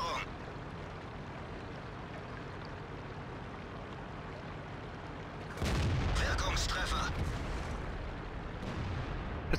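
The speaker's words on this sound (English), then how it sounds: "Puts a couple shots into the side of the KB5." Tank cannon fire from an E-50 in World of Tanks, a sudden heavy blast partway through over a steady engine rumble, followed by a sustained loud crackling report.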